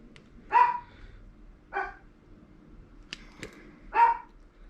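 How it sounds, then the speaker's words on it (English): A dog barks indoors in a workshop where small RC light wiring is being made, three loud separate barks spaced over a few seconds, heard alone without talk. "I think my dog's getting old. He just likes to bark all the time."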